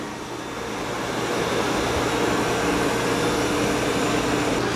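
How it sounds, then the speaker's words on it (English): Dreame L20 Ultra and Ecovacs Deebot X2 robot vacuums run while vacuuming and mopping, producing a steady broadband whir that swells slightly and then holds constant, close by with no speech. "Now they're both doing a pretty good job as far as mopping and vacuuming."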